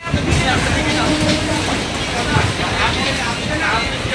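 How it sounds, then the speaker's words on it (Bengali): A local train pulls into Kolkata station with a continuous broad rumble and rushing hiss, steady throughout, with faint mechanical knocks beneath. "আমাদের ট্রেন এখন এসে দাঁড়িয়েছে কলকাতা স্টেশন"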